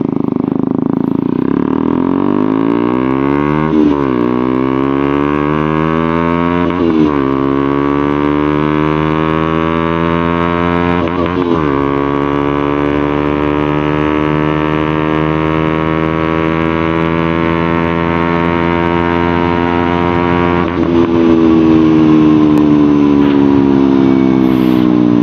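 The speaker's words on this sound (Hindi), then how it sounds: "As you can see exhaust note काफी बेसी और काफी बोल्ड है।" A KTM Duke 125 BS6 (2021 model) fitted with an Akrapovic exhaust rides along the road, its loud bassy engine note climbing in pitch through several gears with brief drops at each shift.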